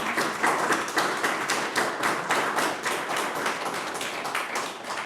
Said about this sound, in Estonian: lihtsalt võib-olla tänaks siis aplausiga